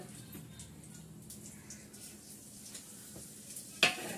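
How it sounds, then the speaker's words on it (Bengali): Cumin seeds and a bay leaf sizzle in hot oil, a soft steady frying hiss with a few faint stirring scrapes, ending in one sharp clink of a utensil against the pan. "জিরে ফোড়ন দিলাম"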